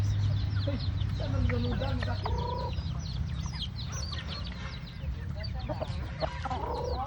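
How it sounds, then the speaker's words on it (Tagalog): Chickens cluck and squawk steadily close by in a farmyard, several birds overlapping throughout while a person's voice calls to them underneath. "Oh, daghana na manok sila oy."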